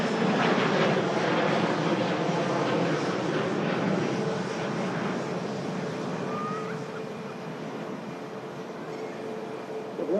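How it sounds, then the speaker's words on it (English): An Icelandair Boeing 737 MAX jet comes in to land at Manchester Airport, its engines a loud, steady roar that fills the whole stretch and eases only slightly toward the end. "Iceland Air 737 MAX coming in."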